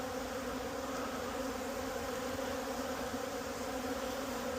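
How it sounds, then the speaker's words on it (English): A steady, dense hum of many bees buzzing together around a hive, close and continuous with no pauses and no voices. "Of course, these bees are all over it."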